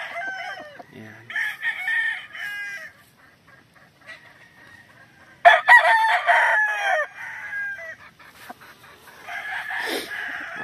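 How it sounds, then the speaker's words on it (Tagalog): Super Sweater bull hens, a gamefowl breed, give repeated loud crowing calls and clucks at close range in short bursts separated by quiet gaps. "ito po yung mga bull hen na super sweater. Ayan sila."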